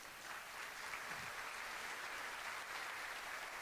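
Faint, steady applause from a congregation at a Spanish-language sermon, a dense even patter of many hands that holds without a break and stands alone with no voices.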